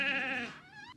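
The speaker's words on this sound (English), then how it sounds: "That was a sheep." A sheep bleats close by, one wavering, drawn-out cry that starts loud and fades into a thinner, higher tail, with no voices.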